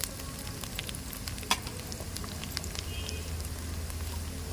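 Ginger garlic paste sizzling in hot oil with curry leaves for a tomato egg curry, a steady close crackle with scattered pops and one sharper spatter, no talking.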